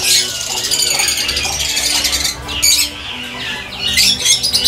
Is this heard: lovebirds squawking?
yes